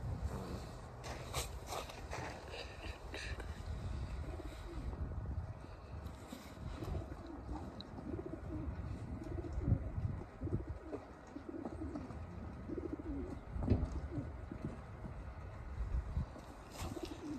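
Racing pigeons coo softly and repeatedly in a loft, low murmuring calls layered with occasional shuffling steps and wing rustles, with no talking.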